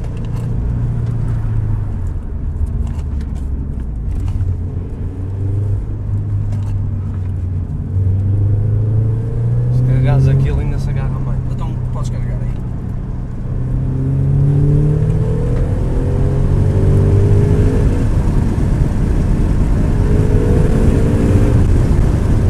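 A turbocharged Toyota GT86 engine accelerates and revs, a loud, continuous rumbling drone whose pitch climbs repeatedly through gear changes, heard up close from inside or beside the car with no talking.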